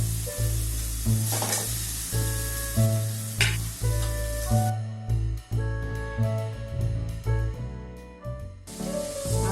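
Potato filling for aloo paratha, mixed with lemon juice and coriander, sizzles and fries in a pan while being stirred, with repeated scraping strokes over a steady, close frying hiss.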